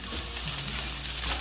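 Julienned potato and carrot strips sizzle steadily in a hot pan, a close, continuous frying hiss with faint crackles and no voices.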